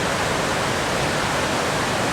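A waterfall in the Great Smoky Mountains pours in a steady, loud, unbroken rush, heard up close with no other sounds.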